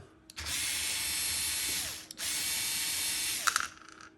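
Tool-driven removal of the carriage from a 3D printer during a teardown: two sustained whirring, ratcheting bursts, loud and close, separated by a brief pause, with a few small clicks at the end.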